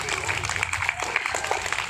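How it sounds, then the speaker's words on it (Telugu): Audience applause welcoming a guest, Ramesh, onstage at a Sree Rama Navami celebration with pooja and kolatam dance; a steady, dense patter of clapping runs throughout under an amplified voice. "చప్పట్లతో ఆహ్వానించాలి"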